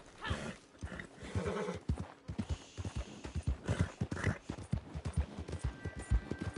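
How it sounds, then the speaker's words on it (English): Horse hooves in the Red Dead Redemption II video game clop in a quick, steady rhythm close by. The beats are loud and continuous, with no talking. "I back fist that freaking horse."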